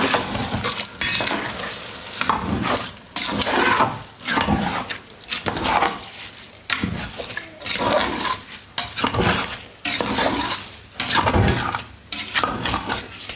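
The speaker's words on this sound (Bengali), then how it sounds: "দেখেন এবার ভালোভাবে কষিয়ে নেব" Meat and rice khichuri stirred and fried in a pot: loud, continuous sizzling broken by repeated scraping strokes of a utensil against the pot in an uneven rhythm, with no talking.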